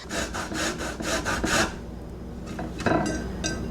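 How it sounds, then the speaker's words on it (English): An orange rubbed against a multi-sided cheese grater, a series of rapid rasping strokes close by, then a pause and a few lighter scrapes, with no talk. "I don't have a zester. Is that even a thing? I don't know. But I do have a cheese grater with all the different options."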